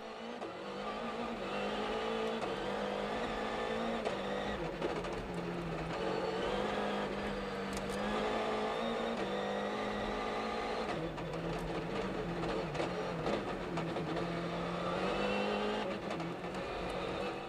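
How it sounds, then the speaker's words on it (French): A Volkswagen Polo R WRC rally car engine revs and accelerates on a 2013 WRC special stage, its pitch rising and falling through gear changes, steady and moderately distant with no talking. "Départ de la toute première spéciale de la saison. Sébastien Ogier et la Polo Air WRC."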